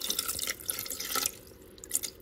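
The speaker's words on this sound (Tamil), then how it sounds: "அந்த ஈரல் கொஞ்சம் மூழ்கிற அளவுக்கு தண்ணி ஊற்றிக்கலாம்" Water poured into a cooking pot over about 200 grams of goat liver seasoned with pepper and salt, a light splashing trickle with drips, fairly faint and close, without talk.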